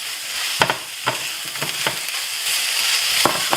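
Ginger and garlic fry in a hot pan with a steady, close sizzle, broken by several sharp stirring scrapes and clicks from a utensil, with no talking.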